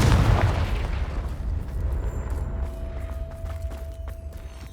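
A Confringo fire spell explodes in the video game Hogwarts Legacy, a loud close blast at the start that fades into a rumbling tail, with a low steady hum running underneath.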